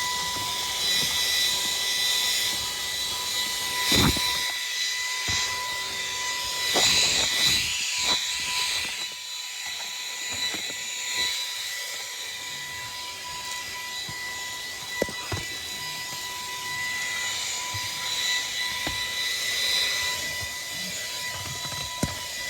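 A cordless vacuum cleaner runs close by with a steady, even motor whine and airy rush, holding at one level throughout with a few brief clicks and bumps, and no talking.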